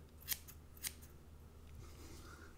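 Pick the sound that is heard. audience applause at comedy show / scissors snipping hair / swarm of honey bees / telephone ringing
scissors snipping hair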